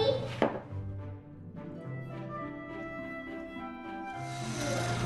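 Eggs being beaten into red velvet cake batter, a steady whirring mixer drone with a changing pitch and one sharp clack near the start, close by and continuous, with no talk.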